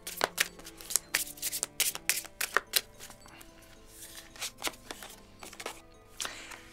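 Oracle cards from the Terre d'Éden deck being shuffled by hand, a quiet close series of quick riffling flicks and soft slaps in uneven bursts.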